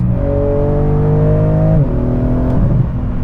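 A car with a valved JCR titanium race exhaust drones loudly nearby, its engine tone holding steady and then dropping in pitch as the revs fall, a throaty rumble throughout.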